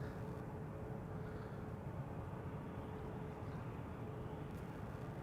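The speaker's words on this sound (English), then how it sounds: "Delta Airlines Flight 49 to New York JFK is lining up here on the threshold of the runway." A Delta Airlines jet lines up on the runway threshold at Amsterdam Schiphol, making a steady, broad engine roar that holds constant and fairly loud with no talk.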